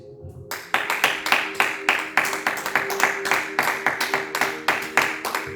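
A church congregation clapping in steady rhythm, loud and close, a regular pulse of hand claps beginning after a brief pause and continuing with no break.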